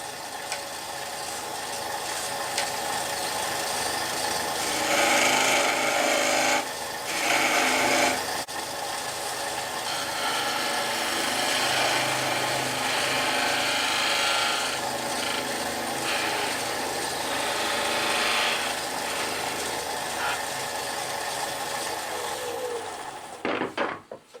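Wood lathe parting off a turned wooden tippe top: a continuous close scraping, rasping cut over the motor hum, swelling louder in stretches before stopping with a clatter at the end.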